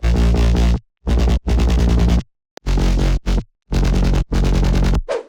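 Future bass sub bass and bass layers playing together in a chopped, rhythmic pattern of loud, thick sustained notes separated by sharp gaps, ending with a brief higher blip.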